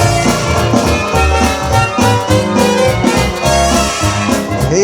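A digital keyboard plays its Dixieland-style intro, loud and continuous, with a full backing band of drums, bass and horns in a lively bouncing rhythm.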